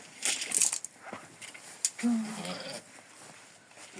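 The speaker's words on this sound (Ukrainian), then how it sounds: "Це моя сама менша козуха." A goat bleats a few times at close range, short wavering cries with someone talking softly around them and some rustling.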